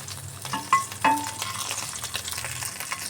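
A salmon slice fries in butter in a pan, a steady close sizzle with a couple of sharp spatter pops and clinks early on, and no talking.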